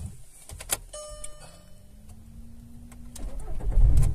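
A Seat Leon hatchback with a remapped engine and straight-pipe exhaust cranks briefly and fires up. A loud, raw idle follows and swells toward the end.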